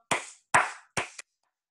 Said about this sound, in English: And we need 5 claps.